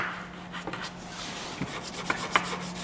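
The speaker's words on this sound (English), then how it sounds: "I got me a little Harbor Freight trusty throwaway scrubber brush." A cheap scrubber brush rasps against metal, scouring rust sludge loosened by penetrating oil off a frozen part, with short rubbing strokes and a few sharper scrapes, close and alone.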